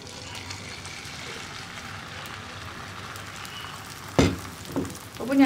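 A steady low sizzle of hot oil in a pan gives way to a sharp, loud hiss as an egg and vegetable mix is poured in for a bread omelette, followed by a few scraping sounds.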